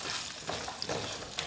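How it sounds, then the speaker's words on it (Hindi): Asafoetida and spices frying in hot oil on a medium-low flame for a tamarind rice tempering, giving a soft, steady sizzle with a few faint crackles, close and quiet. "अब साथ में ही मीडियम लो फ्लेम पे हमें इसको भुनना है, फ्राई करना है।"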